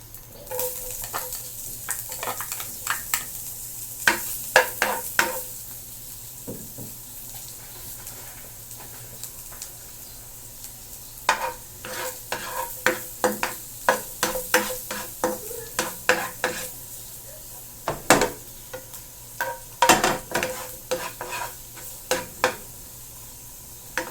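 Garlic sautéing in butter in a pan, with a low sizzle under frequent scraping and clattering strokes of a utensil against the pan, in irregular bursts close by.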